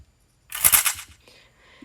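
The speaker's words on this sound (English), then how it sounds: "I added a gun cocking sound" A gun cocking sound effect with echo and an upward pitch shift: one sharp metallic clack followed by a fading, hissy echo tail, brief and isolated.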